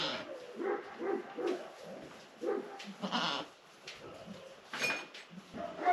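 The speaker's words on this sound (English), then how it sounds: "Every dog is barking." Dogs bark in scattered, repeated bursts at 1:45 in the morning on a goat farm, several animals overlapping at a moderate distance, with a few goat bleats mixed in.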